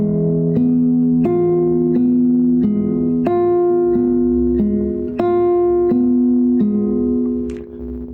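A classical guitar plays a slow arpeggio study from Sagreras lesson 49, picking steady broken chords with clear, close, ringing notes in an even rhythm and no talking.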